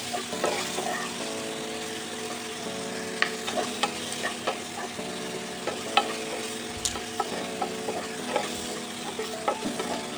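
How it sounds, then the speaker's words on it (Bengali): Chopped tomatoes frying in a pan for moong dal, a steady close sizzle broken by sharp ladle taps and scrapes as they are stirred, with a faint tonal hum in the background and no speech. "এরপর দিয়ে দেবো 2টো টমেটো কুচি, এটাও ভেজে নেব।"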